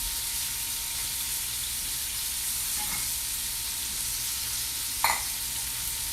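Continuous sizzling of chicken frying in hot fat, a steady crackling hiss with a couple of brief clinks from a utensil.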